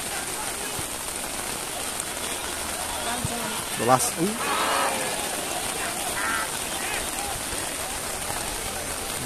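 Heavy rain pours with a steady, close hiss at an outdoor amateur football match, continuous throughout, while a voice briefly calls out near the middle.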